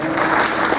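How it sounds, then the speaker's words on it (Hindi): Audience applause at the 13th All India Education Conference as a professor is invited to the stage: a dense, steady burst of clapping from many hands, loud and close throughout the short clip. "ज़ोरदार तालियाँ।"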